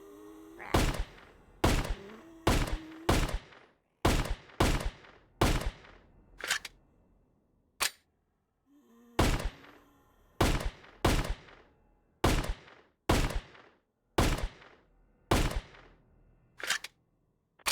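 AUG rifle gunfire in the VRChat video game: about a dozen sharp, loud single shots fired at an uneven pace, each with a quick decaying tail, clustered in short bursts with brief pauses and no talking.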